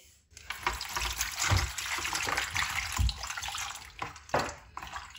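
Peeled pumpkin pieces are washed by hand in water, giving sloshing splashes and trickling with a few sharper swishes and clunks as pieces are moved about, close and uneven in rhythm.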